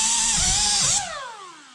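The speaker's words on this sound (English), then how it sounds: "So I just do that with a wire brush here." A wire brush, likely power-driven, scours rust off the spindle of a Walker mower deck gearbox: a steady, loud high whine with rising and falling pitch that drops and fades near the end, with no talking.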